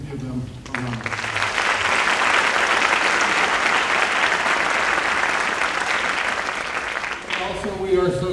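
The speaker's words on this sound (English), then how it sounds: "So let's please give them a round of applause." Audience at a high school senior recognition night applauding the counseling department staff, a sustained wash of clapping that swells after a brief voice, holds steady for several seconds, then fades as speech resumes.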